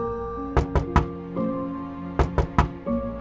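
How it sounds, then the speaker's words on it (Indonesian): Knocking on a bedroom door in a villa, two quick sets of three sharp raps separated by a pause, close and clear against a quiet room. "aku menjawab ketukan di pintu kamar"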